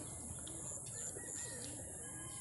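Racing pigeons, just released at 6am, coo softly amid steady background noise, with faint chirps and a brief flutter of wings.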